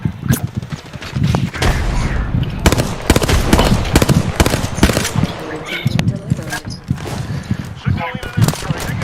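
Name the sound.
gunfire in a video game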